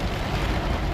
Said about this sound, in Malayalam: അതിനുശേഷം ചാറ്റൽ മഴ വന്നു, പിന്നെ അങ്ങോട്ട് മഴ